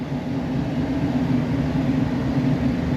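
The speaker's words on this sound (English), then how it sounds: "that's the blower going" A truck's heater blower fan runs steadily, giving a constant whooshing hum with a low drone underneath, close and unchanging.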